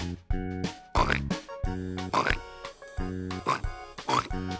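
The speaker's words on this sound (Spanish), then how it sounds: "¿Y qué animal vive aquí en el lodo y hace oink," A pig oinks and grunts in short repeated bursts, close and clear, interleaved with tonal musical notes in a farm-animal setting.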